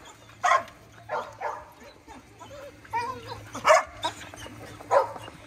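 Several short dog barks and yips come in bursts over a few seconds, mixed with people talking nearby.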